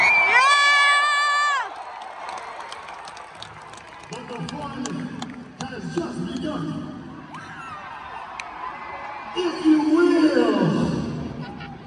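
A crowd at a WWE live show cheers and shouts loudly in a roaring, uneven swell, with piercing whoops near the start and people talking nearby.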